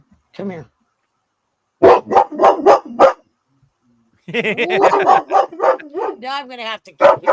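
A dog barks indoors in a quick run of loud, close yaps, then a longer burst of barks and yips that overlaps with someone talking.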